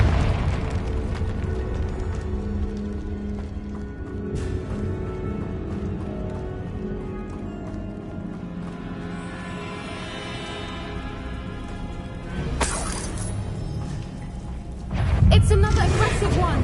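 Confringo blasting spells explode in a Hogwarts video game, with low booms and bursts scattered through the clip, a louder pair of blasts near the end, and voices calling out spells over the in-game sounds.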